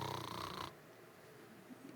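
A voice imitates loud, raspy snoring for a single drawn-out breath before it cuts off abruptly, leaving faint room noise.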